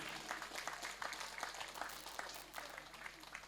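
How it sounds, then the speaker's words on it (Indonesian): Applause from guests at a Quran completion ceremony for a children's Quran school, a busy patter of many hands clapping at moderate distance, fairly quiet and steady with slight swells. "bisa tepuk tangan sekali lagi."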